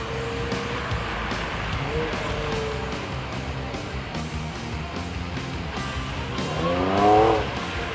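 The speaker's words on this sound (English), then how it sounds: "Here the instructors took visitors on a short gymkhana track, which included some sideways action." A supercharged 3-litre V6 Jaguar F-Pace 35T SUV slides sideways around a gymkhana course on a skid pad, its engine droning steadily while the tyres squeal and swell louder toward the end.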